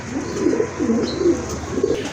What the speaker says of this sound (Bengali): খুবই সুন্দর ভালো মনে এক জোড়া কবুতর